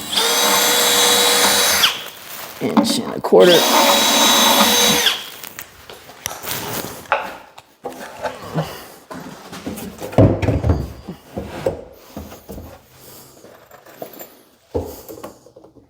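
A power drill pre-drills a pilot hole through a cabinet into a wall stud for a screw, two loud sustained whirring bursts up close, followed by clattering handling noises and someone speaking.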